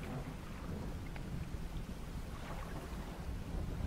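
A thunderstorm rolls through the Dredge video game, low continuous rumbling thunder layered with rain that stays dense and loud throughout.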